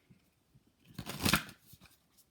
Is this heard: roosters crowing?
no